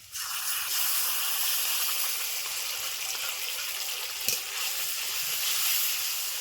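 Tomato puree poured into hot oil for a fish curry: a sudden loud, steady hiss of sizzling that holds at an even level throughout, with a small clink partway through.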